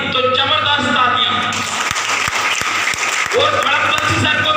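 Loud applause from an audience at a business seminar stage event, dense steady clapping throughout with a low hum and some music or voices mixed underneath.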